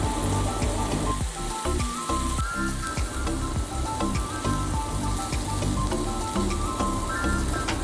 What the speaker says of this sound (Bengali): উল্টে আবার ওটাকে আমি ঢেকে রেখে দিলাম কিছুক্ষণের জন্য, যতক্ষণ না ভালোভাবে ভাজা হচ্ছে।